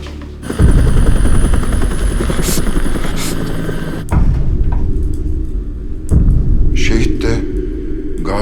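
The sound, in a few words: helicopter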